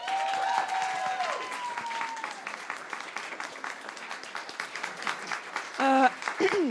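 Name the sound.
audience applause at business contest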